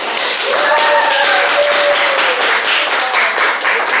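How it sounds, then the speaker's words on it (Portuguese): A large, enthusiastic studio audience bursts into loud, dense applause, a continuous roar of clapping with some cheering or whistling tones mixed in, close and full throughout. "Palmas de nossa plateia maravilhosa"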